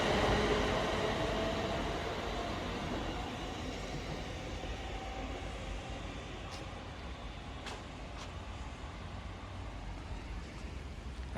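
A ScotRail train at Paisley Gilmour Street station rumbles steadily and fairly close, a continuous rolling drone with a few faint metallic squeaks and clanks, no talking.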